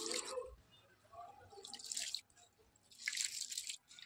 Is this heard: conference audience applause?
no